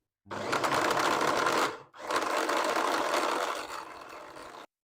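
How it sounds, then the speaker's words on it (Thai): An electric blender whirs loudly while blending a soybean paste sauce with boiled water and a little salt, running steadily, cutting out for a moment, then running again before stopping. "แม่จะปั่นนะ"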